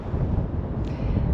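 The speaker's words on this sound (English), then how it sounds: "And of course it's really windy," Strong wind at the Golden Gate Bridge in San Francisco blows across the microphone as a low, steady rumbling buffet with no voices.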